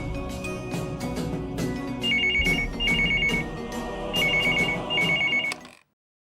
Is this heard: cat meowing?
no